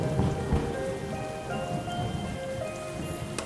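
Rain falling continuously with low rumbles of thunder rolling underneath, a dense patter over deep booming swells, moderately loud with no voices.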